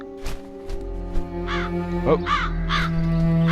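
Crows in the video game Chains of Satinav caw in a repeated run over a steady low background hum, with a short spoken exclamation mixed in.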